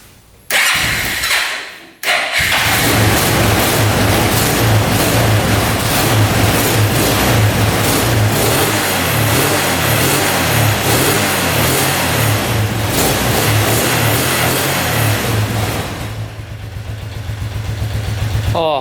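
A cheap $300 ATV engine, run on 12 volts, cranks and catches after a brief stutter, then revs loudly and steadily for a long stretch before easing off near the end.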